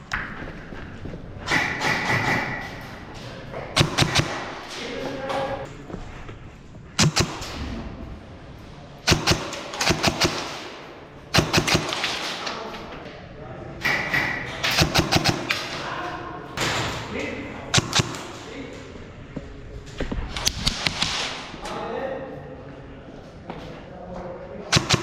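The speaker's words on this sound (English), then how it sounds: "this is the test with the Solink brushless in a stock SSR9, the budget option from Solink" A stock SSR9 airsoft rifle fitted with a Solink budget brushless motor, a DSG setup, fires repeated bursts of sharp rapid shots with thumps and handling noises between volleys, heard up close while someone talks throughout.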